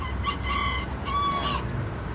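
A bantam rooster of Texas type crows twice in succession, fairly close and loud, with a steady low background hum and no talking.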